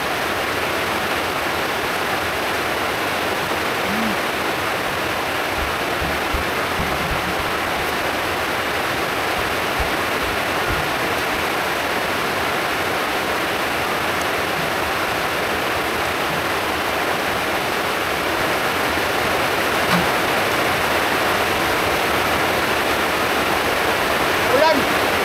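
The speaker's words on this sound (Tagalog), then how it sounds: "Kasi ulan. Ulan na naman mga lods." Heavy rain pours down steadily during a catch-and-cook outing, a dense, constant wash of noise that runs throughout and swells slightly near the end, with faint voices underneath.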